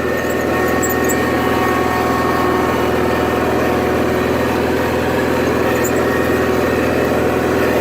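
A Cub Cadet 1811 lawn tractor engine running steadily, a loud, even, close drone at constant speed with no talk.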